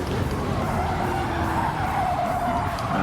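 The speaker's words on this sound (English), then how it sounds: "so ended up having to drift it round the corner" Car tires in Gran Turismo 7 squeal in a long continuous skid while drifting through a corner on the last lap of a race, loud and steady over engine roar for the whole stretch.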